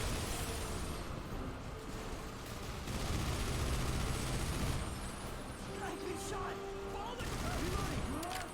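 Rapid assault rifle fire in Earth Defense Force 2025, a sustained rattling barrage with pops and blasts layered over it, loud throughout, with a voice speaking over parts of it.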